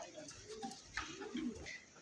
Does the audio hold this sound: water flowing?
no